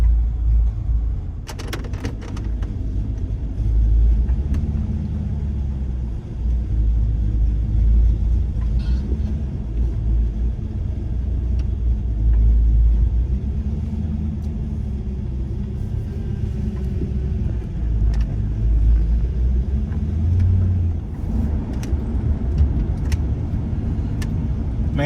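A 5.0 Ford Mustang drives at a steady cruise, its engine and road noise forming a continuous low rumble inside the car, with no talking.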